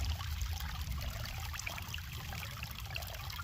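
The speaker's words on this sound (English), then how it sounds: "Sluice is running okay. It's running a lot slower this time." Water runs steadily through a gold prospecting sluice outdoors, a soft, continuous trickling flow with low rumbling underneath, fairly faint and even throughout with no voices.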